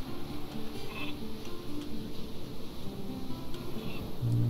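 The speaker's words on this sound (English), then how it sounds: "A lot of sheep." Sheep bleating in the Viking strategy game Northgard, several animal calls repeating over a steady, busy game soundscape with low ambient hum, moderately loud and continuous throughout.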